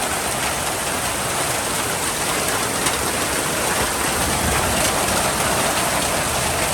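Steady rain pours down on a village home in Bangladesh during a Baishakh storm, a dense, even hiss of drops hammering surfaces that holds constant and fairly loud throughout, with no voices.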